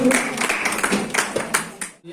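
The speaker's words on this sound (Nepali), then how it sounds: "म फेरि पनि एकचोटि जोरदार तालीका साथ उहाँलाई धन्यवाद व्यक्त गर्न चाहन्छु।" An audience claps at an anniversary celebration, a dense burst of applause from many hands that fades out after about two seconds, with a voice mixed in.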